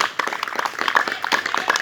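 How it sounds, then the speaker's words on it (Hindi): Brief, lively clapping breaks out from a small audience at a Teacher's Day gathering honouring a teacher, with quick scattered hand claps lasting under two seconds. "श्री बाबूराम जी के लिए जोरदार तालियां"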